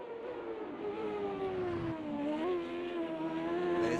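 Indy race car engines in a 1995 CART Indy Car Series race at Long Beach in a racing video game, a sustained high-pitched whine that sags and climbs with gear shifts, growing steadily louder without talk.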